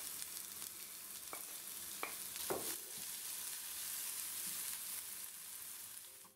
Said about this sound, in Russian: Подготовим овощи. Обжарим морковь и лук.